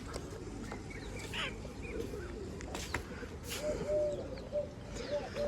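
Pigeons calling outdoors with soft cooing and fluttering mixed into steady background noise, occasional brief calls rising above the din.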